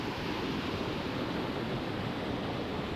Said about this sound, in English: This is a really nice waterfall,